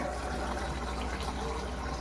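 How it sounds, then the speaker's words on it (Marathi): Hot water poured from a pot into a simmering chicken and potato curry, a steady continuous gushing splash at close range with no voices. "हा पाणी त्याच्यातच टाकायचं आहे आपलं"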